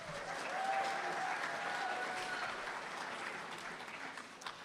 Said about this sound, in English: Let's get a round of applause for you all for being here.